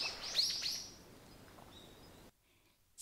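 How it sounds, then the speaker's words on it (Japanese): Small birds chirp beside a clear mountain river, a few quick high tweets close by in the first second or so, then fainter calls fading into near silence. "小鳥のさえずりが聞こえる。"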